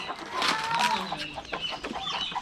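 Chickens cluck close by in an Akha hill village, a busy, overlapping chatter of short calls, one rising squawk standing out.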